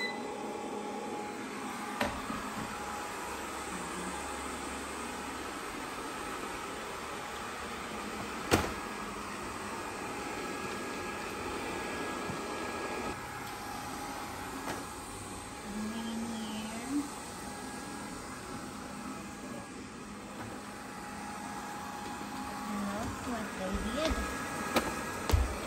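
A GleeU GRS1 robot vacuum runs indoors with a steady whirring drone and occasional bumps and clicks, heard fairly close beneath intermittent talk.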